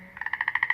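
Repeated frog croaks, a steady run of about ten evenly spaced calls, loud and close with no other sound.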